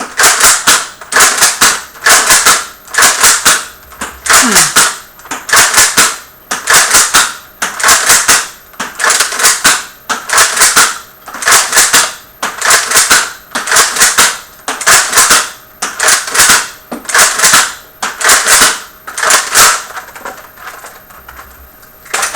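Toy foam dart blasters firing repeatedly in a steady rhythm of sharp, loud, close snapping pops, roughly two per second, continuing for over twenty seconds with no talk.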